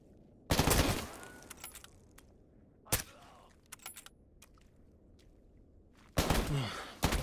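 Bursts of automatic gunfire in the video game S.T.A.L.K.E.R. GAMMA 0.9.3 crack out in a quiet setting: a long volley, a few short single shots, then another sustained burst at the end.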